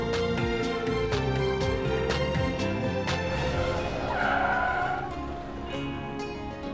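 A car braking to a stop, tires squealing and skidding briefly over steady music, with no talking.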